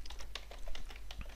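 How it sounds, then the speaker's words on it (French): Keys clatter on a computer keyboard in a quick irregular run of light taps, close and clear, with no talking. "je tape sur la touche entrée de mon clavier"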